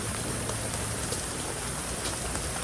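Light drizzle falling steadily, a soft continuous patter of raindrops on surfaces, near and even throughout with no voices.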